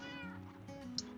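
A single drawn-out cat meow from Minecraft, clear and close with a rising then falling tone, heard alone without talk.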